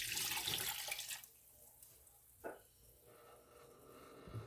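Two cups of apple cider vinegar poured from a glass measuring cup into a pot of peppers, a brief splashing rush of liquid that quickly fades to a faint trickle and a few soft clinks.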